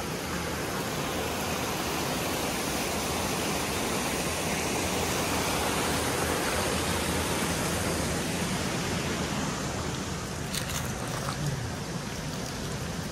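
A Himalayan mountain stream near Labdah in Darjeeling rushes in a loud, steady, unbroken roar from close by, filling the whole stretch without pause.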